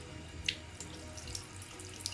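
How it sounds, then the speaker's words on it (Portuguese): Water runs steadily from a tap into a sink, a constant close hiss and splash with a few faint drips and clinks, and no one speaks. "Vamos fazer sair água por aqui, ó."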